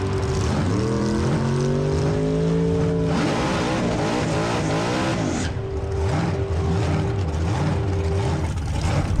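Blood Brothers Racing 1953 Chevy truck making a drag racing pass, a loud roaring engine climbing through gears with rising and falling revs, sustained and close throughout.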